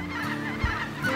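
Geese honking during a duck and goose hunt, a few close, loud honks in quick succession over steady outdoor noise, with nobody speaking.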